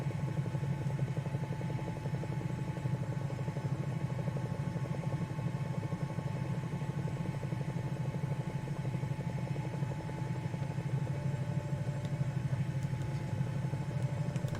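A Bell 222B helicopter at maximum speed in Microsoft Flight Simulator gives off a steady, dense rotor and turbine drone with a fast rhythmic chop, unchanging and alone throughout.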